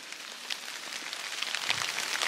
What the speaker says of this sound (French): on vient de se prendre une averse là